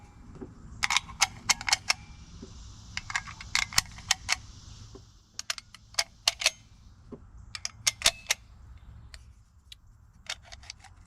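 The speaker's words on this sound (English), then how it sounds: "I'm going to load these in the magazine and then push the magazine in" Loading .303 rounds into the magazine of an Enfield No.5 jungle carbine, a series of sharp metallic clicks and snaps in irregular clusters, close and alone against quiet room tone.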